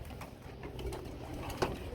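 Pigeons at a pigeon sale coo faintly in a low murmur, with scattered rustling and a sharp click near the end.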